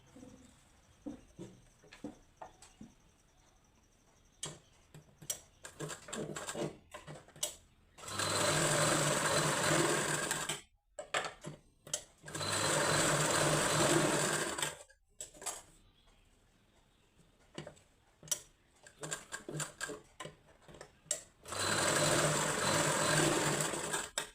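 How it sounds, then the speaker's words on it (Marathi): A sewing machine stitching katori blouse pieces runs in three loud, steady bursts of a few seconds each, separated by quiet pauses filled with small clicks and fabric handling. "इथून अर्ध्या अर्ध्या इंचावर स्टिच करून घ्यायची"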